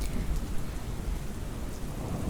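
Heavy rain pours steadily in a thunderstorm, with a deep rumble of thunder beneath the dense, continuous hiss of falling drops and no voices.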